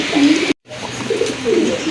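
A male Black Gold Archangel fancy pigeon gives soft, low, rolling coos close by over a steady background hum, with a brief dropout partway through.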